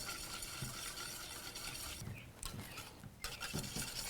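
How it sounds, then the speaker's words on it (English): Eggs being whisked in a bowl for cornbread batter, a quick scraping, tapping rhythm of utensil against the bowl with light clinks, close and moderately quiet, without speech. "Just going to break up my eggs."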